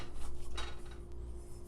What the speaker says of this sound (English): while it's frying we're breaking it up into small bits.